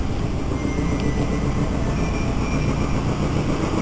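An air compressor runs in an auto hobby shop with oil bowsers and maintenance stalls, a loud, dense, continuous mechanical drone with a low rumble that holds steady throughout.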